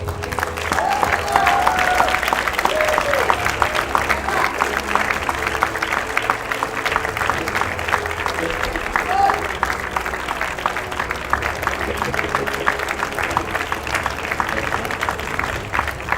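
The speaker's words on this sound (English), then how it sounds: "Ladies and gentlemen, please give a big round of applause to CL Violet Surya." Audience applause at a university faculty colours awards ceremony, steady dense clapping that carries through the whole span, with some voices mixed in.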